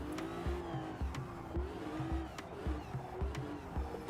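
An exotic late-1960s race car in a racing game drones steadily, its engine note rising and dipping through repeated gear changes, with low thumps under a continuous mid-level hum.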